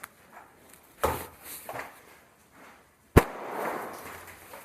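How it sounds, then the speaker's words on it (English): Airsoft grenades go off in an abandoned amusement park, two sharp close bangs a couple of seconds apart, each trailing into a brief rattle of scattered noise. "but you're throwing grenades like a motherfucker."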